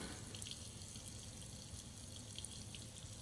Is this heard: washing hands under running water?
yes